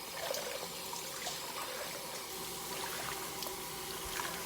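Warm water rinses and trickles over an IKEA Rimforsa bamboo kitchen table top, floating dirt and suds out of the wood fibers, a steady soft wash of running liquid throughout.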